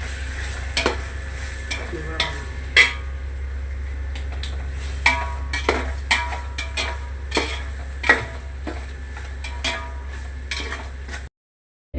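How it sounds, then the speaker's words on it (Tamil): Tomatoes with rock salt stirred in a cooking pan, a steady sizzle of frying underneath repeated scraping and clinking strokes of the spoon, close and continuous with no talking. "கல்லுப்பு போட்டுக்கலாம். அப்படின்னா தான் தக்காளி நல்லா வதங்கும். நல்லா கிண்டி விட்டுக்கலாம்."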